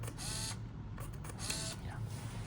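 A Minolta Panorama Zoom 135 film camera in continuous shooting mode, with steady motor whirring in two longer bursts and a brief shorter one between, close and fairly loud.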